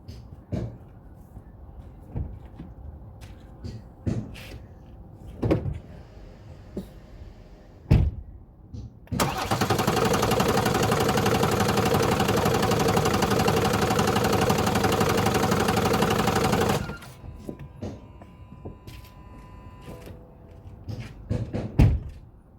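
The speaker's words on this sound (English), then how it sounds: "So now I'm going to crank the engine again." A BMW F36 4 Series Gran Coupe 430d diesel engine cranks and then idles as a loud, steady, broadband drone for several seconds. Scattered knocks and clicks are heard before and after.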